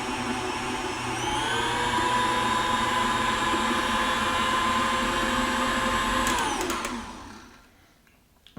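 An electric mixer blends keto walnut cookie dough in a steady, loud motor whine with a constant pitch, running alone for about seven seconds before it winds down and stops.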